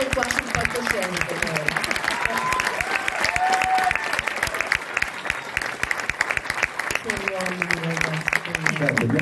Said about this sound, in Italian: Fategli un applauso perché muore qua sul palcoscenico